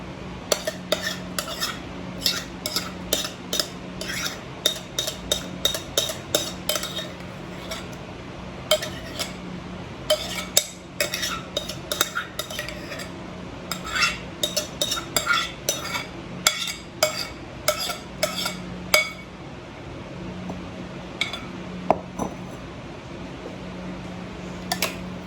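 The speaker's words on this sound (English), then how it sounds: "Now I'm going to kind of mix this up a little bit." A utensil clinks and scrapes repeatedly against a bowl while eggs, a cup of mayonnaise and two cups of cheese are stirred together for a squash casserole, in quick irregular bursts over a faint background hum.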